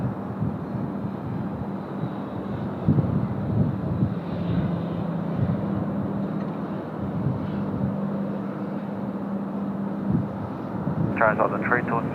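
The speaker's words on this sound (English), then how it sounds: "747-8 about to arrive here. Runway 16 right." A Boeing 747-8 arrives on runway 16 right, its steady low engine roar and broadband rumble filling the scene continuously at a moderate distance, with a brief higher-pitched chirp near the end.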